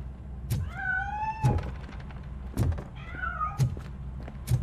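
A cat in the video game RoboCop: Rogue City, hiding inside a piano, gives two drawn-out meows between several dull thunks and knocks, heard alone without speech.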